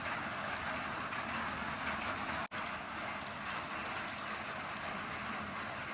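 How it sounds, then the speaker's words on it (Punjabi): Steady broadband hiss of rain falling in Botswana, constant and fairly loud throughout with no voices, broken only by one brief dropout midway. "ਮੀਂਹ ਦੁਬਾਰੇ ਸ਼ੁਰੂ ਹੋਇਆ ਫੇਰ"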